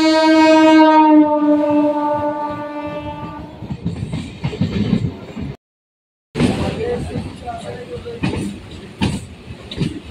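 A Kolkata local train pulls out of the station, opening with a long horn blast, then rumbling and clattering loudly along the rails close by, with a brief dropout midway.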